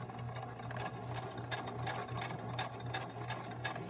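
A small embroidery machine zigzag stitches along lace trim for a journal cover pocket, running in a steady fast mechanical whir with rapid needle clicks, fairly quiet and close, with no talking.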